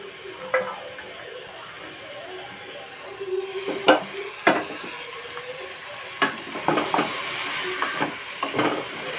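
Mixed vegetables with salt and a small piece of butter fry and get stirred in a pan for pav bhaji, soft sizzling under a series of sharp spoon scrapes and clanks, close and steady.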